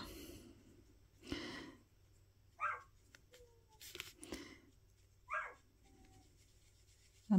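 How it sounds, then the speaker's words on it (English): A dog gives a few short, scattered barks and snorts, separated by quiet gaps, sounding moderately distant and fairly soft. "That dog. She just likes to bark."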